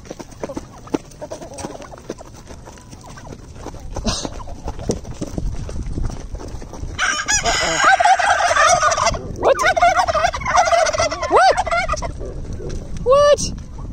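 Farm turkeys gobble loudly in bursts, with other fowl calls and clopping footsteps around them, at first quiet and then rising into long, near gobbling runs.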